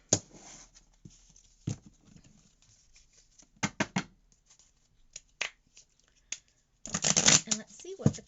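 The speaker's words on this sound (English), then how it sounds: "shuffle the deck 3 times" A deck of oracle cards is shuffled by hand in several short riffling bursts, close and crisp, with a longer flurry near the end.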